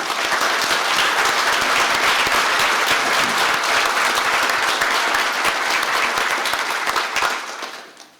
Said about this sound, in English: Please, a quick round of applause for all our Gold Star family